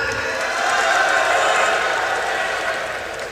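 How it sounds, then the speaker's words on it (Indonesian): An audience at an official speech in Indonesia gives a steady wash of applause, a sustained clapping roar that swells and fades slightly. "Ada, tepuk tangan."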